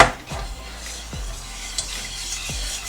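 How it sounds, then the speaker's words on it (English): Vegan cheese sauce being stirred in a pot on the heat, with three or four soft scraping sweeps of a utensil against the pan at a steady, unhurried pace, close and fairly quiet. "And stir again"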